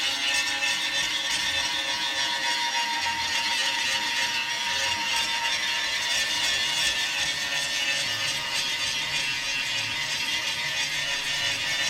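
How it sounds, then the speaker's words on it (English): A grinding wheel works down a fiberglass crack on an RV body, giving a steady, bright, abrasive whine that stays loud and continuous throughout with no speech. "So just get at it with your grinding wheel."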